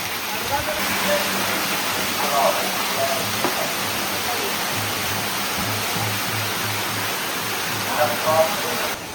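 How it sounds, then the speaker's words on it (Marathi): Heavy monsoon rain pours steadily at a farmhouse near Ekvira, a dense continuous hiss filling the whole stretch, loud and close, with faint voices now and then underneath. "पाऊस बघा किती पडतो"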